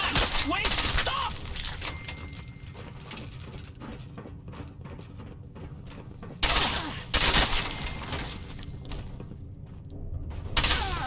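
Gunfire in Fallout 4, played with the Daniel The Remnant creation club mod, comes as rapid bursts and rattling volleys with mechanical clatter, peaking in several loud blasts amid continuous game noise.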